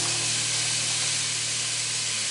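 Chopped onions and garlic hitting hot oil in a soup pot for bean and ham soup, a loud, steady broadband hiss of sizzling close up with a low hum underneath, no talking.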